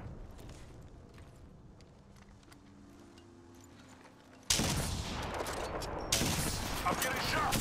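Gunfire erupts in an Apex Legends ranked arena match, with a dense, loud burst of rapid shots that starts abruptly after quieter footsteps and rustling, pauses briefly, then resumes just as heavily.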